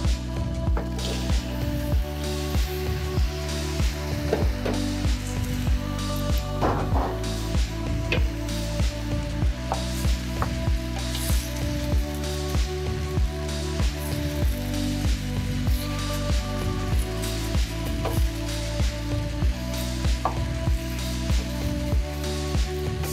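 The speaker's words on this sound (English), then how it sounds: "it's at this point that I'm going to add matoke" Matoke (green cooking bananas) added to a pan of spices, giving a steady low sizzle with scattered crackles and soft wet squishing as the pieces settle, close and continuous without talk.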